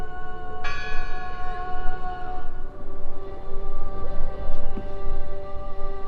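A church bell rings in the video game Draugen, a loud resonant strike followed by a long ringing decay, then a second softer toll, with no talk over it.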